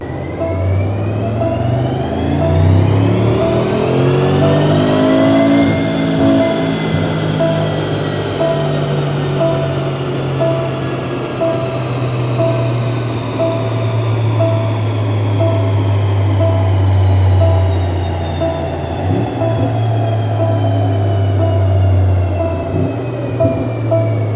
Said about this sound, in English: first, before any changes, we made the stock dyno runs.